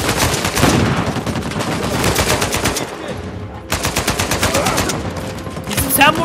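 Rapid automatic gunfire in the video game Uncharted 4, loud sustained bursts with a brief pause midway before firing resumes, under excited talk from players.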